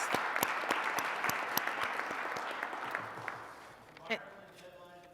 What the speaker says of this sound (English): let's give our committee a round of applause for Jefferson Awards.